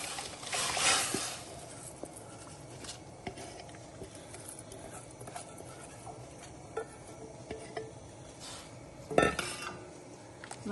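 Light clinks of a utensil against a pot, scattered patter and a couple of louder scrapes as rice is added to boiling water and mixed, close and sparse.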